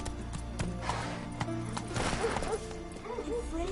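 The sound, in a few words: horse Roach running in The Witcher 3 video game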